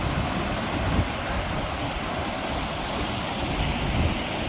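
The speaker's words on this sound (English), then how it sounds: "So this walk you do have to cross sections of a waterfall." A waterfall on a walking trail gives a constant, loud, close roar of rushing water that never breaks across the whole stretch.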